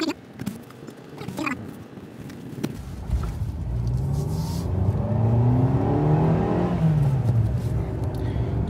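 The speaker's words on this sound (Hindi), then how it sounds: "तो खींच रहे हैं भाई कार को" A 2020 Maruti Ignis facelift with a BS6 petrol engine accelerates hard in second gear, its engine note rising steadily in pitch and loudness over several seconds, heard from inside the cabin.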